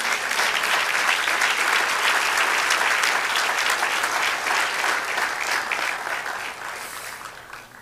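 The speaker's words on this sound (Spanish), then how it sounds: "Dale un aplauso al Señor" A church congregation gives loud, sustained applause to the Lord during a sermon, a dense wash of many hands clapping that fades slightly toward the end.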